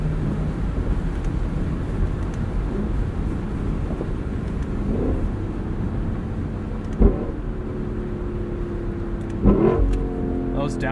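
A Lexus LC sports car drives along with a steady engine drone and road noise. Two sharp revving blips from downshifts come near the end, each followed by a brief rising engine tone.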